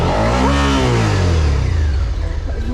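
A motorcycle engine revs loud and close, its pitch sweeping up and down over a steady mechanical roar, heard during a troubled stop on a motorcycle trip through Austria while the bike slips.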